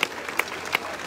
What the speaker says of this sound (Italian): E quindi fategli un applauso